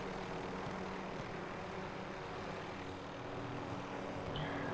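A helicopter in the Warzone video game holds a hover, giving a continuous, fairly loud rotor and engine drone that stays even and steady throughout, with no voices.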